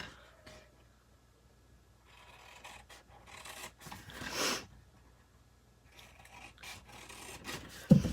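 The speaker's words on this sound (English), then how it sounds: "the rest of these I'm just going to cut up to the score line" Cardboard box blank being cut by hand up to the score lines, a series of close, quiet rasping scrapes in separate bursts with pauses between, one longer cut near the middle and a sharp tap at the end.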